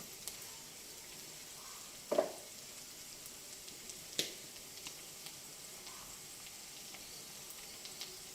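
Prawns and okra frying in a pan with chili powder, a quiet steady sizzle with a couple of sharp utensil knocks and a few faint ticks, close and without talk.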